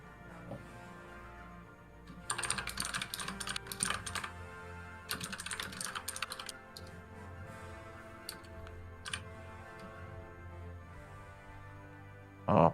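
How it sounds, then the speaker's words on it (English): Computer keyboard typing comes in two quick clattering bursts of rapid keystrokes, followed by a few scattered single clicks, fairly close and soft against a quiet background. "Pardon me for typing sometimes."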